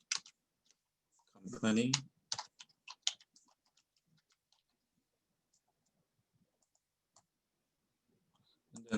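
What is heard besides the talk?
typing on a computer keyboard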